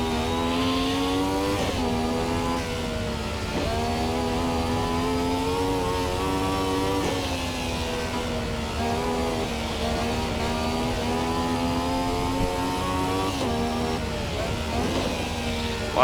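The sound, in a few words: Ferrari 312T Formula 1 car engine while drifting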